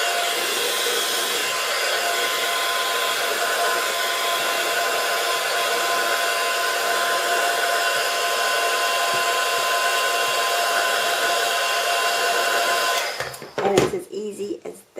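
A heat gun or hair-dryer-style blower held over fabric to crinkle it for fabric flowers, a steady close airy roar running continuously before cutting off near the end, with brief handling noise after.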